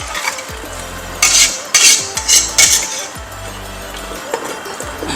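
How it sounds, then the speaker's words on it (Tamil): A metal lid goes onto a cooking pot of goat head curry, giving several sharp, close metallic clanks and clinks in quick succession over low kitchen background noise. "மூடி போட்டு நான் மூடி வைக்க போகிறேன்"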